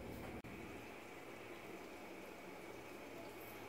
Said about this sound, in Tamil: தண்ணி நல்லா கொதிச்சிருச்சுங்க.